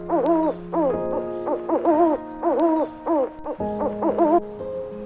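An owl hoots again and again in the wild, loud and close, in short rising-and-falling calls with brief pauses between them and no other sound.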